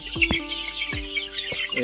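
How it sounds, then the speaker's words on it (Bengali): Kadaknath chicks, about one month old, give a few short chirps and clucks at close range over a quiet background. "এক ছাটা এক সাইজের কাড়াকনাথ মুরগির বাচ্চাগুলো হয়েছে"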